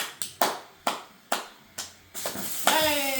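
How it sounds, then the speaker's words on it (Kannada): Several distinct hand claps ring out in an uneven rhythm at a casual home cake cutting, closing with a short vocal sound as more people chime in. "ಚಪ್ಪಳಿ ಚಪ್ಪಳಿ"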